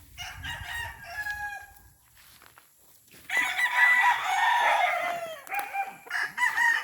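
Gamefowl stags and roosters crow at a small chicken farm. Several nearby birds give loud overlapping crows with some clucking, quieter at first, then a long strong crow and further short calls.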